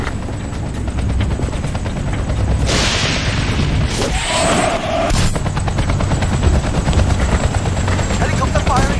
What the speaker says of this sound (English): Enemy helicopter in the area.